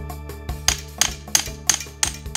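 A hammer taps the back of a cleaver to drive it through a grouper, giving a close, even series of about seven sharp metallic knocks.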